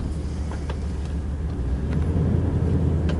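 A 2002 Dodge Ram pickup with the 5.9 engine drives along, its steady low rumble and road noise filling the cab at a constant, moderately loud level with no voices.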